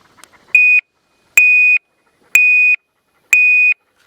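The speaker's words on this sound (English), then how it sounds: "the beep sounds like this." Four identical beeps from a remote bird launcher's electronic caller, evenly spaced about a second apart, loud and piercing, each a short steady tone with faint clicks before the first.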